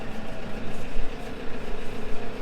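A Case Luxxum 120 tractor engine idles steadily and quietly, a low continuous rumble with faint vibration and no talk over it.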